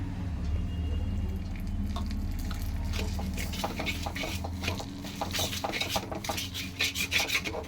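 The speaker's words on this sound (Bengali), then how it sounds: "এবার দেখো আমি একটু হালকাভাবে ভেজে নিচ্ছি" Semolina is lightly fried in ghee and stirred in a pan, making dry rasping scrapes that start steady and quicken into sharper, closer strokes toward the end.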